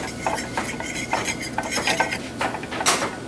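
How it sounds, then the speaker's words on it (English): Utensil clinks and scrapes against a bowl as egg yolk is whisked with Riesling wine for a sauce for cod, a steady close run of stirring taps with a sharper clatter near the end. "I got an egg yolk mixed with some of that Riesling, the Blue-filled Riesling"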